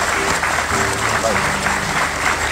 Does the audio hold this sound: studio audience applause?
yes